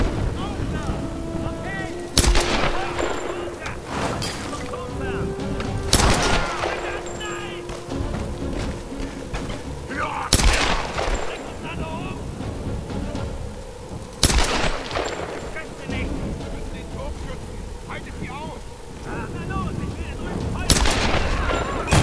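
Pistol gunshots in the Tomb Raider I video game ring out as loud, isolated single cracks every few seconds over steady background game ambience, with a voice speaking in between.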